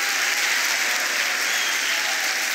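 Church congregation applauding in a dense, steady roar of many hands, loud and continuous throughout with no voices rising above it.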